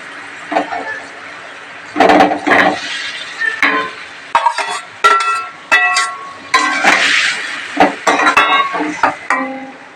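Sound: adding pointed gourd pieces into hot oil in pan

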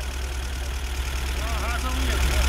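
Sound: car engine idling

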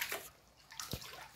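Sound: water sloshing in a flooded room

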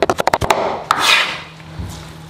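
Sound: chopping drained glass noodles with a knife

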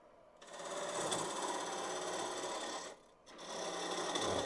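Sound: spindle gouge cleaning out wood on a lathe

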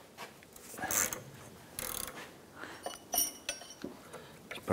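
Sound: ratchet with half-inch socket loosening Chevrolet S10 inner tie rod

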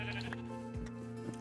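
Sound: sheep bleating in a video game

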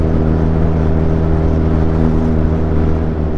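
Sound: Kawasaki inline-four superbike engine revving

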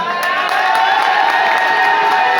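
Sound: audience applauding and cheering

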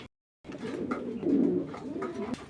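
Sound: Baghdadi racing pigeons flapping and cooing in cage

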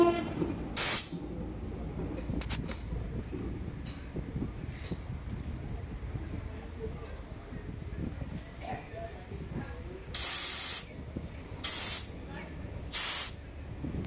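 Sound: Toyota Allion CVT gearbox running, chain tightening

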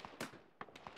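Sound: gun firing in video game ARMA 3

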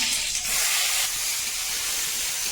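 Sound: chili and bay leaves sizzling in hot oil

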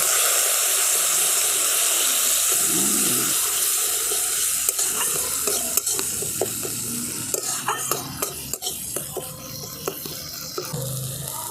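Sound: spice paste being fried and stirred with a little water

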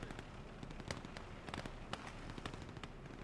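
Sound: Bofors cannon firing in video game Gates of Hell

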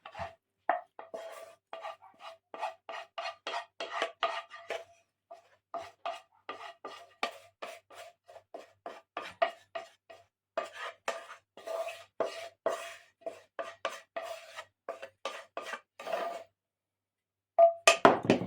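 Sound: mashing food again with a pestle

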